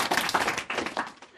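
Classroom students applauding a pupil, a short burst of fairly loud, dense clapping that tapers slightly toward the end.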